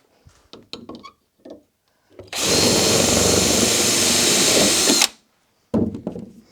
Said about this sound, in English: So now I've got to make some more holes. So I like using pilot holes.